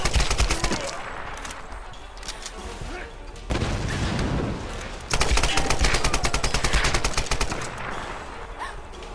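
Dense automatic gunfire in the video game Tomb Raider, with rapid bursts and booms running almost continuously at high loudness, broken by a short gap.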